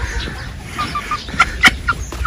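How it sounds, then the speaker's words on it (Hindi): Chickens cluck close by in a village orchard, a few short sharp clucks and squawks bunched toward the end over quiet outdoor background. "ये भी खूबसूरत मुर्गी आए दोस्तों"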